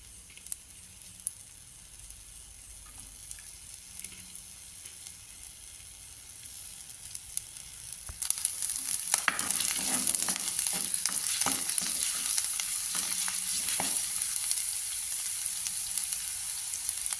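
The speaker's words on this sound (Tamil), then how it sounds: "அதாவது உள்ளி, இஞ்சி, இது 2ஐயும் நல்லா போட்டு கொஞ்சம் வதக்கி எடுத்துக்கொள்வோம்" Garlic and ginger for a coconut milk pasta go into hot oil in a pan: a quiet stretch, then a sudden bright sizzle that stays loud and crackling, with stirring scrapes and spatters close by.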